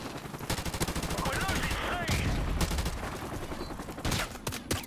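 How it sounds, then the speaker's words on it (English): Gunfire in Call of Duty 4: rapid automatic bursts and scattered single shots crackle steadily throughout, under a voice talking. "They're just randomly shooting through crates, killing me."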